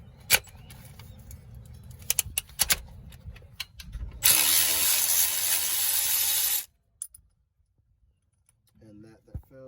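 Ratchet and socket clicking on a 16 mm alternator bolt of a 2008 Dodge Avenger 2.4, rapid close clicks and metallic rattles, then a few seconds of loud whirring power-tool noise before quiet.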